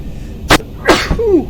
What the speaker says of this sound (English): And a sneeze before landing.